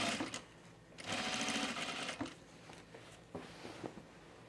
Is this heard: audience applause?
no